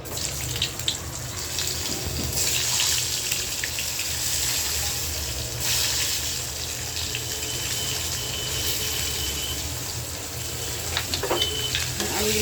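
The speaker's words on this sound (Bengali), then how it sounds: "আলুটা একটু ভাজবে" Potatoes frying in oil with bay leaf and cumin in a kadai, a loud, continuous close sizzle with occasional stirring scrapes.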